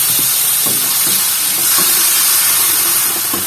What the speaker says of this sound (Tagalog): So, gisa lang tong kamatis.